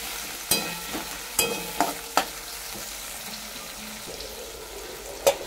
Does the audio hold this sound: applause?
no